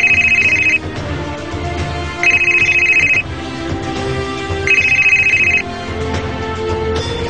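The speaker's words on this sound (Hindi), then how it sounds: "मेरे मोबाइल पे एक अननोन नंबर से कॉल आई।" A mobile phone rings for an incoming call, a loud electronic ringtone repeating in three bursts separated by short gaps, with nothing else heard.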